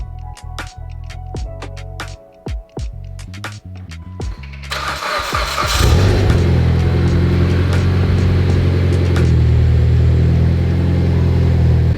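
A Mitsubishi Evo X with a newly replaced oil pump cranks with rapid starter clatter, then catches and settles into a loud, steady, even running hum heard up close.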